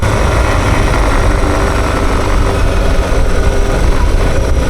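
A Suzuki DR650 dual sport trail bike engine runs steadily and loud, a continuous dense rumble with no break and no voices.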